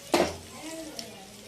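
Whole spices drop into hot oil in a pan for biryani, where bay leaves are already frying. There is one short, sharp sizzling hiss up close, then a quiet simmer with a faint clink.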